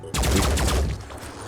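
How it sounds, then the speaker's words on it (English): A gunshot in Phoenix Point: Terror from the Void comes in as a sudden, loud burst of rapid, overlapping reports that rattles for about a second before tailing off. "See what kind of shot we can get from here. Lining up a shot."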